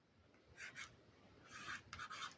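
Pen writing on a greeting card with a waterproof pen, soft scratchy strokes in short bursts, close and quiet with pauses between words.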